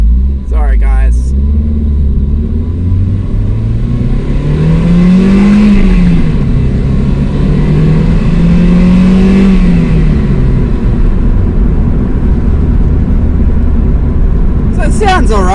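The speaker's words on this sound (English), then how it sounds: "It sounds pretty nice for a 4-cylinder." A 2000 Toyota MR2 Spyder four-cylinder engine revs up and down twice, rising and falling under a steady loud rumble, with brief voices at the start and end.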